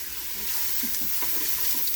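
Steady sizzling and crackling of onions frying in a pan, a continuous bright hiss with faint stirring sounds, close up and alone.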